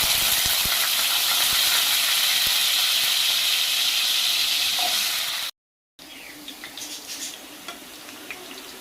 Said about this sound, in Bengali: ওই গরম তেলের মধ্যেই আলুটাও দিয়ে ভেজে নেওয়া হবে।